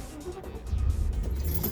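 A 1992 Mercedes 500E engine turns over and catches, a low rumble building to a steady idle heard up close with no talking.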